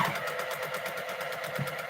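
A sewing machine stitching quilt blocks for cross-cut postal stamp squares runs steadily with a fast, even needle rhythm, quiet and close.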